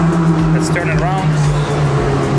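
A Bentley drives past on a Monaco street, its engine a steady, loud low drone close by for a couple of seconds, with a few brief higher chirps and voices mixed into the traffic noise.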